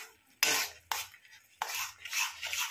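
A spoon stirs green chutney in a pan, giving three short scraping, clinking passes against the metal with brief pauses between them, close and fairly quiet.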